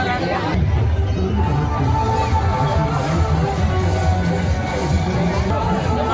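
Dense crowd of pilgrims packed at the Bhoramdev temple gate during the Sawan Monday foot pilgrimage, a steady hubbub of many overlapping voices with scattered calls, close and continuous throughout.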